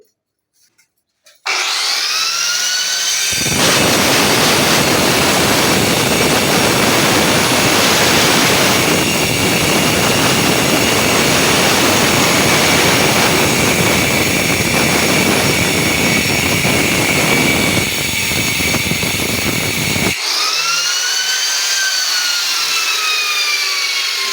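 A saw cuts through a pipe, loud and close: a motor whine rises at the start, then a steady, harsh grinding rasp runs for about twenty seconds before the whine winds down.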